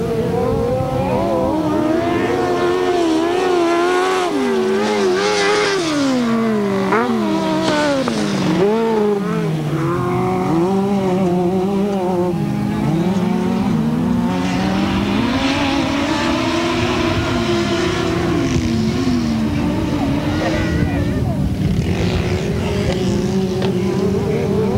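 Grasstrack sidecar racing machines at a 1993 meet sweep past, their engines rising and falling in a loud, buzzing whine that swells as they approach and fades as they move on, with no speech over the sound.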